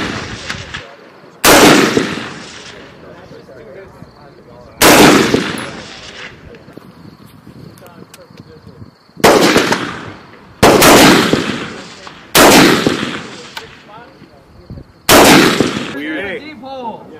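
Rifle shots ring out at a Marine Corps marksmanship competition: about seven sharp, loud reports, some in quick pairs and others spaced apart, each followed by a short ringing decay over background murmur.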